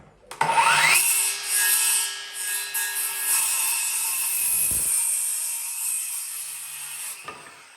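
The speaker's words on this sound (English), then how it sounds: "I'm just going to cut it with the circular saw here and get it up" A circular saw, used while building a plasterboard arch, spins up quickly to a steady high whine, holds a continuous cut for several seconds, then winds down near the end.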